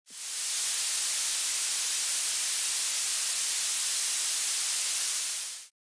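White noise run through a high-pass filter with a 4000 Hz cutoff in Pure Data gives a steady bright hiss, sizzly and thin with the low end removed, held for about six seconds before stopping abruptly.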